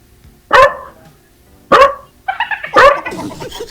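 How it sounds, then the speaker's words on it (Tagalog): Three loud, close dog barks spaced about a second apart, the last one followed by a short burst of quieter yips. "Hindi maingay pa ang aso dito."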